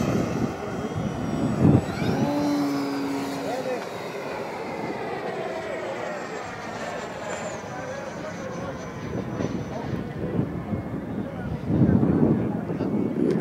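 A Vought V-143 propeller fighter plane drones past low, its engine tone shifting as it passes, with people talking over the noise.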